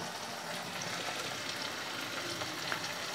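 Dried prawns fry in a pan for a gongura dish, giving a steady, dense sizzle and crackle that holds evenly throughout with no talking.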